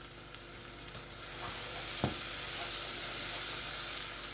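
Spices are stirred in a hot pan for a chickpea curry, making a continuous close sizzle with soft scraping, quieter at first and then steadier and fuller, with one brief thump midway.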